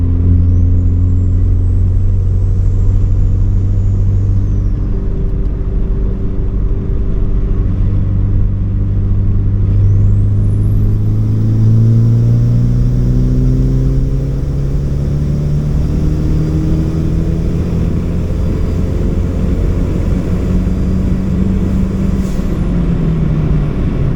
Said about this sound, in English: Fourth gear pull.